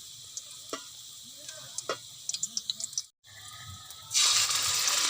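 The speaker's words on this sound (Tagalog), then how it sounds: "at ginigisa natin ito medyo gawin nating brown ang ating bawang sibuyas" Garlic and onion sautéing in a pan until brown, a string of quiet pops and ticks over low sizzle, a brief cut, then a sudden loud burst of hissing near the end.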